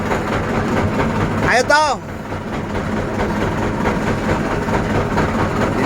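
A boat engine runs steadily as a continuous low rumble beneath an outdoor crowd, with people talking and calling out as they board for a crossing to Pulau Panjang off Jepara.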